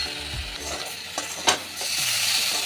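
A spatula stirs sizzling spices in a hot pan for a papaya and chana dal curry, a steady fry hiss with a couple of scraping strokes, then a louder burst as halved tomato goes in.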